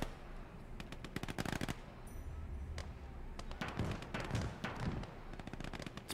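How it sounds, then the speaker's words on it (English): Gunfire crackles from a Gates of Hell Ostfront battle in bursts of rapid automatic shots, some heavier thuds mixed in, continuous through the moment at moderate distance. "He's got a Bofors cannon in the center there."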